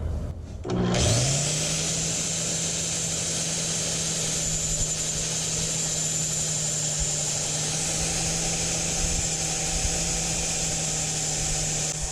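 Machine spinning up and running steadily while a wooden spindle for an antique spinning wheel is trimmed down, a constant close motor hum with faint scraping texture and no talk.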